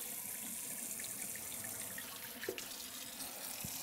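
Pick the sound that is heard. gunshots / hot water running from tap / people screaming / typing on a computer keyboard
hot water running from tap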